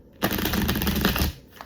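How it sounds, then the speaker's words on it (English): Deck of cards being riffle shuffled up close, a single brisk burst of dense rapid flutter that starts sharply and ends after about a second. "That nice little breeze at a shuffle."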